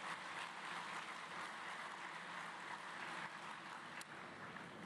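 Audience applause at a women parliamentarians' forum of an international assembly, a steady dense wash of clapping sustained throughout with no talk over it.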